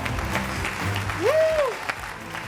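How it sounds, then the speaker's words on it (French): An audience on a television show claps for a guest, steady moderate applause with a voice briefly sliding through a sung or exclaimed note in the middle. "Applaudissez s'il vous plaît pour Atenkpo."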